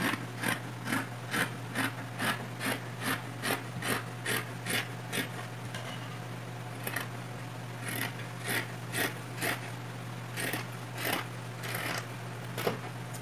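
Scissors cut through tulle fabric for a tutu skirt, making a steady series of short, close, rasping snips about twice a second, fairly quiet, with no talking.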